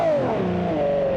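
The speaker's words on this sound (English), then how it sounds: "Why are you revving?" Car engine revving in the BeamNG driving game, a brief tonal whine sliding down in pitch then leveling off, fairly quiet and alone without speech.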